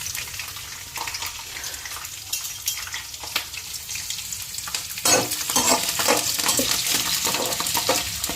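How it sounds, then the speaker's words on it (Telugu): Garlic and dried red chillies frying in hot oil, a steady bright sizzle with scraping stirs that grows louder partway through, no voices over it. "అవి అయితే మంచిగా వేయించుకోవాలి."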